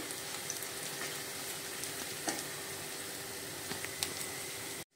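Red chili powder is mixed into tomato bhaji frying in a pan, a continuous gentle sizzle with a few faint clicks of the spoon, close and quiet, cutting off abruptly at the end.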